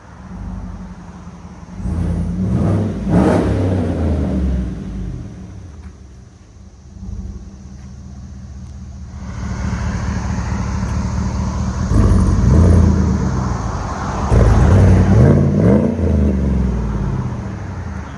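Deep, loud idle and several throttle blips from a 2017 GMC Yukon Denali XL 6.2L V8 fitted with a Dynomax Race Bullet exhaust, rumbling close by with swelling revs.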